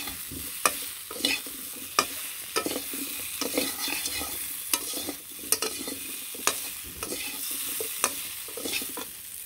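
Curry being stir-fried in a pan until the masala browns, a sizzling hiss broken by repeated sharp scrapes and knocks of a spatula at an irregular rhythm, close and moderately loud with no voices.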